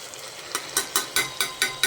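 A spoon scrapes and stirs beetroot gravy frying with masala powder in a pan, six or seven evenly spaced stirring strokes over a soft sizzle, quiet and close.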